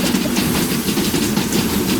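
A small train passes in the Roblox game Jailbreak, a steady rumbling rattle with rhythmic clickety-clack of wheels, loud and continuous with no talk.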